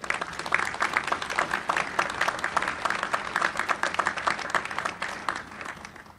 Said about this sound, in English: If I can please have a round of applause for the NAVSEA workforce.